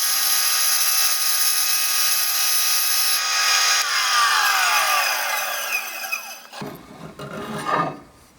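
Saw fitted with a 1/8 inch blade cutting through material, a loud steady rasping whine that shifts pitch midway and breaks off into rougher scraping bursts near the end, with no talk.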